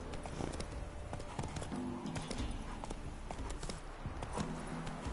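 Hooves of Roach, the horse in The Witcher 3, clip-clop steadily in a quick, even rhythm throughout, fairly soft and alone with no talk.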